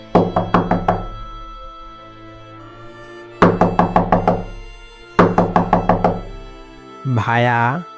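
Knocking on a door in a cartoon: three quick bursts of about five sharp raps each, loud and close, followed by a brief spoken call at the end.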